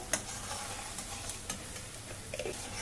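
Sugar syrup with cardamom pods simmers in a pan, giving a faint, steady bubbling hiss, with a few light clicks of a spoon against the pan and no voices.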